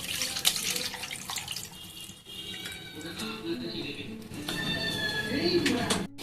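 Water splashes and trickles in a bowl as fresh homemade chhana (paneer) is rinsed, soft running and sloshing sounds with a few drips, fairly quiet, with faint birds in the background.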